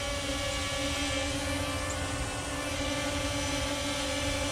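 Vivitar VTI Phoenix foldable drone hovering nearby indoors over a table, a steady loud propeller whine and buzz with tonal hum, constant and unbroken.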